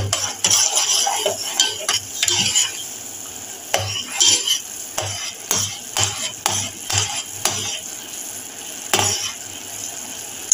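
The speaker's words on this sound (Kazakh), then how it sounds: "Жақсылап араластырып, біркелкі маста болғанша араластырасыздар" A spoon stirs a thick homemade lollipop candy mixture in a pot, scraping and clinking against the sides in repeated close, loud strokes with short pauses between them, and no talking.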